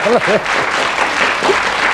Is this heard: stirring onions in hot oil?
no